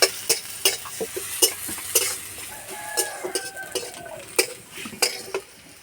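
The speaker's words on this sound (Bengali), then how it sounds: "পেঁয়াজটাও হালকা লাল করে ভেজে নেব" Sliced onions frying in a pan until lightly browned, giving a soft sizzle broken by repeated sharp clinks and scrapes of a spatula against the metal pan.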